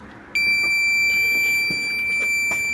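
A steady, high electronic warning tone from an Alfa Romeo 147 Twin Spark with an oil pressure light on sounds continuously after a brief quiet start, loud and close, with faint clicks underneath.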